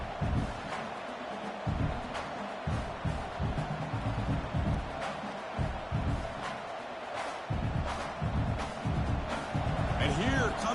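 Stadium crowd noise at a college football game between Stanford and Arkansas State, a dense continuous roar with rhythmic thumps and swells rising toward the end, under a commentator's talk.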